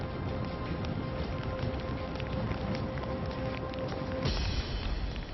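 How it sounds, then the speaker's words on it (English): Steady, dense hiss of heavy rain at sea with no voices, a constant wash of noise that thickens slightly near the end. "the rain lashes down, team spirits start to sink"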